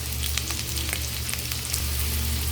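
Onions sautéing with pork in a pan, a dense steady frying sizzle with occasional light crackles and stirring clicks, close and continuous, no talking.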